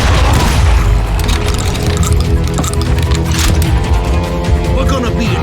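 Loud, dense bursts of shotgun fire and booming impacts in the Western shooter Call of Juarez Gunslinger, continuous across the stretch with layered crashes, music and voices mixed in.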